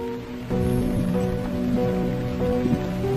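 Cartoon rain falls steadily in a continuous hiss that swells slightly after the first half second, layered with soft sustained tones.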